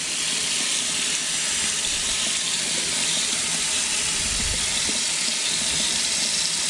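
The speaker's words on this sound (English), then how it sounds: "I am cleaning the back with the water rinse" Steady rinse water running over the back of a K&N air filter during cleaning, a continuous close hiss of spray with no talk.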